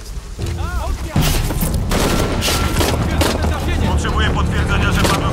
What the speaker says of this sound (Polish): Potrzebuję potwierdzenia, że padły kolejne strzały.